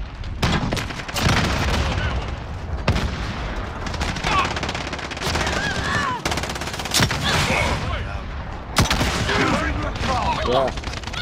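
Rapid video game gunfire with automatic bursts and booms from a sentry gun in a multiplayer match, loud and nearly continuous, with excited players shouting over it.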